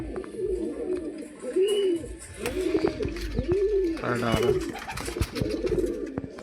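Pigeons coo close by in repeated rolling, throaty calls that rise and fall in a steady rhythm, while someone talks over them and some handling noises clatter in between.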